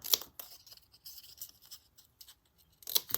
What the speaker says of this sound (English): Oh, we could cut some out. Cut some of these out.